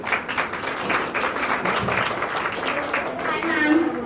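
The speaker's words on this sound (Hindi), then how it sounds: "तो उनके लिए तालियां बजाइए।" Audience applause at a women's business event, clapping spread across the room beneath and between voices, with people talking over it and a brief tone near the end.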